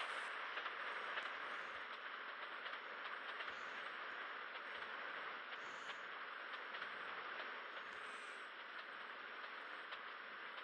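Steady train rumble with hissing rail noise from GTA San Andreas, a continuous broadband roll holding even and fairly loud for the whole stretch with no talk over it.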